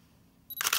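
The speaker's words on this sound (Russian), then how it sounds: "как только резкость появляется, затвор срабатывает" A single-lens reflex camera shutter firing once, a short sharp mechanical snap near the mic after a quiet pause, with no other sound around it.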